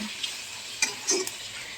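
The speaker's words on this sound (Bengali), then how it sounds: "পেঁয়াজটা ভাজা হয়ে গেছে চিকেনটা দিয়ে দিয়েছি" Chicken pieces frying with browned onions in a pan for chicken kosha, a steady hiss of sizzling with a few brief stirring scrapes, close and moderately loud.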